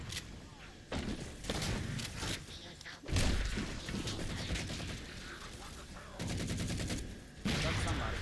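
Gunfire in the Halo 4 shooter game, with a shotgun among several heavy blasts and bursts through a busy firefight, players talking over the action.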